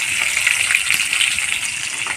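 A fish frying in a pan, a steady close hiss and crackle of sizzling oil with no talk.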